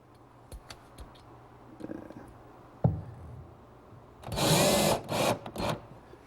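Power drill driving screws to attach a pocket door track to a wooden cabinet, a short burst of whirring near the end after a few scattered knocks and clicks, with no speech.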